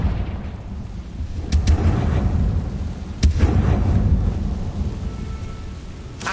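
Booming fire spell explosions from the Hogwarts Legacy video game, a loud continuous low rumble with sharp crackling bursts near the start and middle, sounding like thunder and artillery without any talk.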